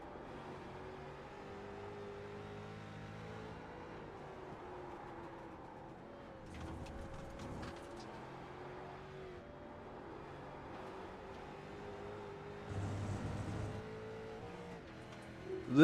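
Street stock race cars on a winter-series oval lap hum along in a steady, fairly distant engine drone, swelling twice as cars sweep past and rev, with no talking over them.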